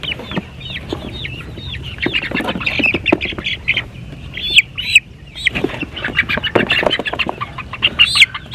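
Chickens squawk and cluck in a rapid, overlapping burst while being handled and moved into a coop, with loud close calls and flurries of agitated noise throughout.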